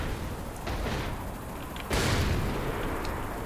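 A helicopter blows up in the Saints Row: The Third game, a sudden loud blast bursting over a rumbling background of gunfire and explosions, its noisy roar then lingering at high level.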